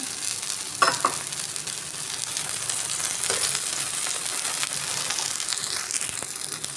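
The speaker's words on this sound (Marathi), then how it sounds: "साईडनं तेल सोडायचं आहे आपल्याला" Oil sizzles and crackles steadily around a beetroot uttapam frying in a pan, with an occasional scrape of a utensil, continuous and close.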